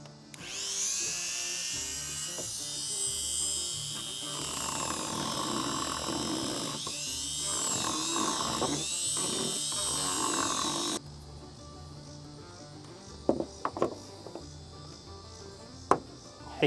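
A small hole saw bites into material with a whining, fluctuating high-pitched drill sound up close, running for about ten seconds, then stopping, followed by a few sharp knocks and clatters.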